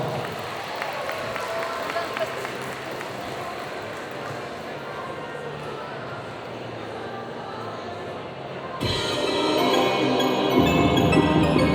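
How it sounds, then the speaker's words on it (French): A crowd at a solo cosplay contest claps in a steady, moderately loud wash of applause for a contestant. Music then starts and grows louder toward the end. "Applaudissements s'il vous plaît pour elle."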